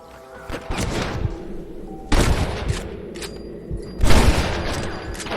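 Bursts of gunfire in the video game Red Dead Redemption crackle in quick volleys, with rapid shots and heavy thuds recurring every couple of seconds, loud and close.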